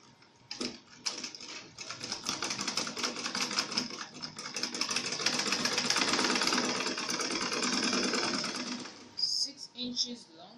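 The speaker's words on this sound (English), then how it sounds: "So I'm going to go down and sew my darts." Sewing machine stitching darts on an A-line skirt, a rapid mechanical whirring and clatter that starts in short bursts, then runs continuously close by for several seconds before stopping, with a few clicks and handling sounds after.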